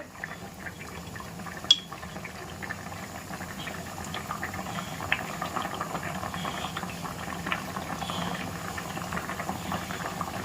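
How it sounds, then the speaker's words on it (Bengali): Curry broth bubbling in a cooking pot on a stove, a steady low churning boil with soft liquid gurgles throughout, moderately close and fairly quiet. "এবার নামিয়ে দেবো, ঝোল ফুটে উঠেছে"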